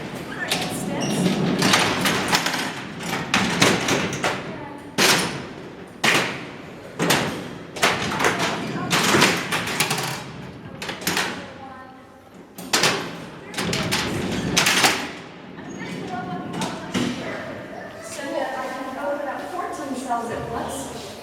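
Heavy steel cell doors at Alcatraz prison slam and clank repeatedly during a night tour, a series of loud metallic bangs and rattling thuds echoing in a large cellblock, with people talking and murmuring around them.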